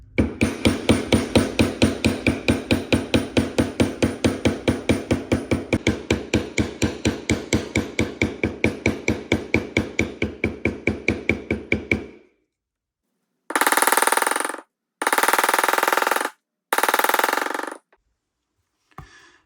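A mallet strikes a leather bevelling tool in a fast, even run of sharp taps as a floral pattern is tooled into leather. The taps stop, and three short bursts of a louder, noisier sound follow after a pause.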